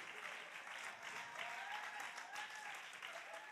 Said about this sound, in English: y'all clap your hand and give God a praise